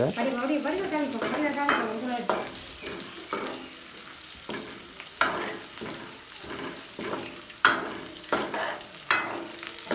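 Food sautés in a pan during Jaffna-style home cooking, a low steady sizzle broken by repeated sharp scraping and clinking strokes of a spoon stirring against the pan.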